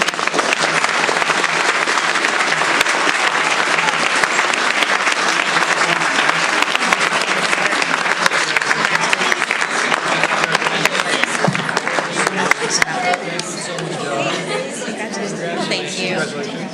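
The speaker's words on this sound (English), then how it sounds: "let's give them a round of applause" Loud, continuous applause from an audience at a school district board meeting honoring student athletes, many hands clapping up close for about thirteen seconds before fading into crowd chatter and talking.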